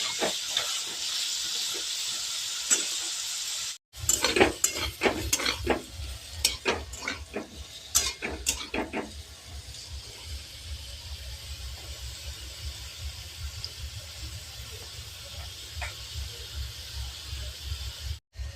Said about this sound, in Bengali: এবার আমি ভালো করে লাল লাল করে নেড়ে চেড়ে ভাজবো